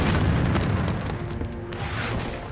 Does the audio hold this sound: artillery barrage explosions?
yes